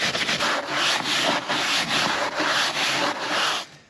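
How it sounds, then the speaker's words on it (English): A brush scrubs a greasy plastic door panel on an old farm truck in quick, rhythmic back-and-forth strokes, each a loud, close rasp, about a dozen passes before stopping. "So scrubbing it with the brush, it's coming clean"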